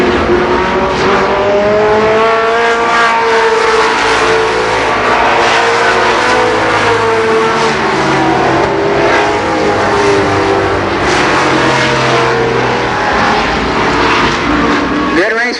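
Race cars at Columbus Motor Speedway in 1990, loud, close engines roaring and shifting pitch as cars circle the oval together, a continuous howl with passing swells, while an announcer talks over the track noise.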